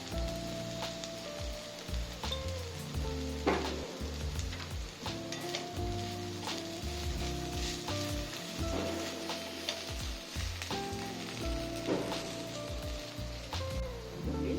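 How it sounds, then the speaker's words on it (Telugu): Okra (ladies finger) frying in a pan, with a steady sizzle and occasional stirring and scraping noises throughout, fairly close and loud, with no talking. "ఇదిగోండి బెండకాయలు బాగా వేగిపోయింది"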